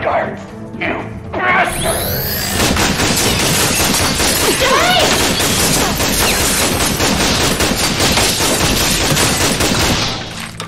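Guards open fire with sustained, dense gunfire in the video game Tales from the Borderlands. The volley is loud and continuous for about eight seconds and then cuts off, with a voice speaking briefly at the start.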